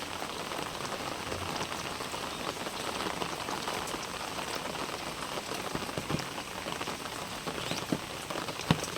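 Rain falls steadily over a home garden with hibiscus, periwinkle and roses, a constant even patter with no voices.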